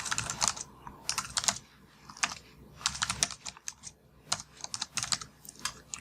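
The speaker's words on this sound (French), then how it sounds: "je vais taper mon identifiant" Fingers type a login ID on a computer keyboard, close-up bursts of quick key clicks separated by short pauses, with no voices.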